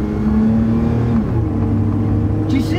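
A high-mileage used truck's engine runs steadily while driving, a loud continuous hum with a low drone and a brief pitch shift as it changes gear, close and with no talking.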